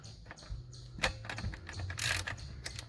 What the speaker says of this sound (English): now this is a nice screwdriver and it has a ratchet feature.